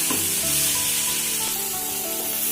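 Cooked rice being stirred into capsicum masala in an oily pan, a close, continuous scraping and sizzling with soft spoon strokes throughout.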